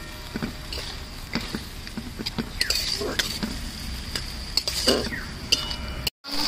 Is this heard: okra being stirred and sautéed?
yes